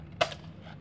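A single sharp, faint crack as a spring airsoft gun fires at a bottle in a village shooting game, over quiet background hiss.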